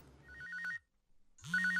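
A telephone rings in two bursts of electronic trilling with a short silent gap between them. It sounds fairly close and clear, with no talking.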